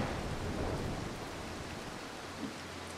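Steady downpour of rain with rumbling thunder in the stealth video game Mark of the Ninja, a dense continuous wash of storm noise heard alone with a slight swell near the end.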